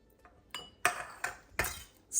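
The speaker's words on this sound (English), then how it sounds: "Now we add some, tamarind chutney." Spoonfuls of tamarind chutney landing on a vegan dabeli burger, heard as a few soft, separate clinks and taps of a utensil against a dish, close and fairly quiet, with no talking.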